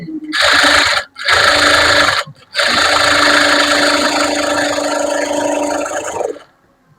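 A sewing machine stitches lining fabric in loud, close, continuous bursts: a short run, a brief stop, another run, a second pause, then a long stretch of steady whirring before it stops.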